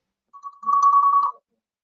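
A phone ringtone for an incoming call plays alone, loud and close: a couple of short electronic chirps, then a sustained trilling melody lasting about a second before it cuts off.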